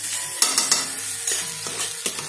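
Katla fish curry with chilli and coriander being sautéed in a pan: loud, even sizzle with rhythmic stirring scrapes and occasional spatula knocks, close and alone without voices.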